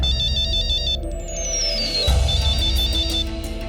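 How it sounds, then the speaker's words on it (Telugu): A mobile phone plays a loud electronic ringtone during an outgoing call, a warbling repeated melody that shifts partway through, heard alone with steady low background hum. "అమ్మా, నేను ప్రవీణ్ కి ఫోన్ చేస్తాను."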